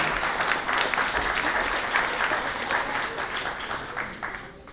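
Warm audience applause at a Pontic Greek club event in Berlin, a steady round of dense clapping from a hall full of people that fades a little toward the end.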